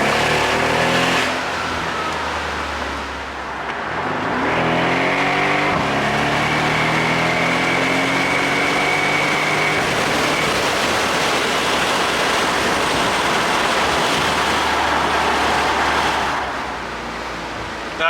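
A 2013 Mercedes-Benz SL63 AMG driving on a street, its engine note climbing and falling through revs in a loud, continuous roar with rising harmonic sweeps and steady road and wind noise.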